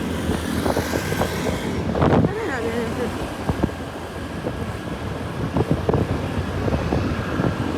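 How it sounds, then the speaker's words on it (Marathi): A BMW passes on Mumbai's Western Express Highway, heard as loud, steady traffic rush from a moving vehicle, buffeted by heavy wind noise, with a brief whooshing swell partway through. "मग अशी इथून एक BMW गेली."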